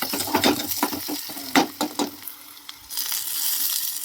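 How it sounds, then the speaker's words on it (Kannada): Mustard seeds, cumin and onion frying in hot oil, crackling sizzles with sharp pops and stirring scrapes, close and lively, settling into a steady hiss. "ಎಣ್ಣೆ ಹಾಕಿ ಸ್ವಲ್ಪ ಸಾಸಿವೆ, ಆಮೇಲೆ ಒಂದು ಸ್ವಲ್ಪ ಜೀರಿಗೆ, ಈರುಳ್ಳಿ ಹಾಕಿ ಮಿಕ್ಸ್ ಮಾಡಬೇಕು"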